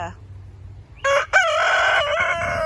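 A young rooster crows once, close and loud, its call starting with a short note and stretching into a wavering, slightly rough cry.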